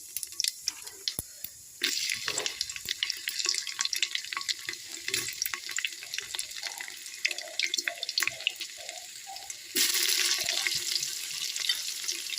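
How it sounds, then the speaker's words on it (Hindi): Cumin, garlic and onion fry in hot oil with cardamom for a Bihari-style chicken curry, a dense crackling sizzle that jumps louder as ingredients go in, with occasional stirring clinks over the continuous hiss. "तो इस तरह प्याज डालने के बाद अब ये सारी चीज़ को हम अच्छी तरह से फ्राई कर लेंगे।"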